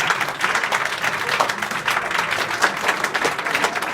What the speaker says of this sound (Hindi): जिन बच्चों को दिखाई दिया उनके लिए ताली बजाओ,